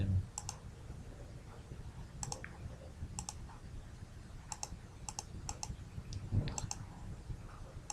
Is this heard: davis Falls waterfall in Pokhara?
no